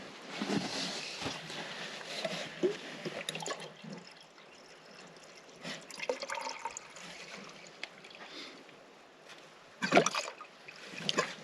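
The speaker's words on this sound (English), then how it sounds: "let's dump diesel in it first" Diesel is poured into the fuel tank of a Wheatland 806 tractor that sat for 30 years, making quiet, uneven splashing and gurgling with a louder burst of pouring near the end and no talk.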